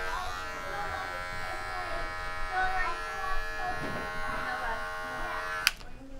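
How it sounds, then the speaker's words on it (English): Electric hair clipper buzzing steadily during a barbershop haircut, a close, constant hum with a faint clipping texture and a brief click near the end. "now I'm kind of just using the heel of the clipper to keep me from creating lines in the haircut"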